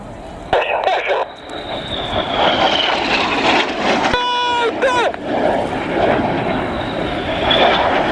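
A pair of display jets pass at about 100 feet at the Royal International Air Tattoo 2022, with a loud roar building and sweeping past while a commentator talks over a public address system.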